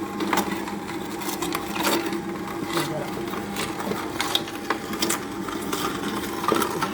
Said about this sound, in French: Un plaisir de regarder les aliments se broyer.